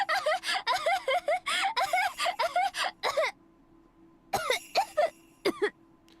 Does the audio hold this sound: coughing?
yes